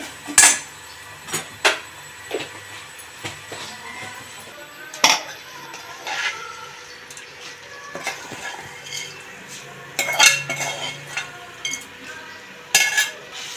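A spoon scrapes and clinks against a metal pot while mixing tamarind rice, in irregular knocks and scrapes with quiet gaps between.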